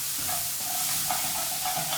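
Sliced onions frying in a pan on high heat for a fish fry, stirred continuously; an even close sizzle with soft scraping strokes of the spoon, no voices.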